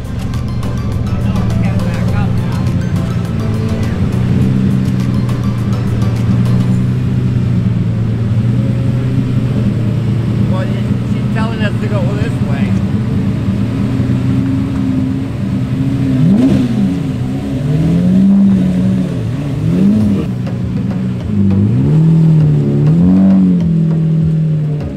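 Two Lamborghini supercars idle and rev at a morning charity car show meeting spot, a loud close engine drone throughout with rising and falling revs toward the end, while a voice talks over it.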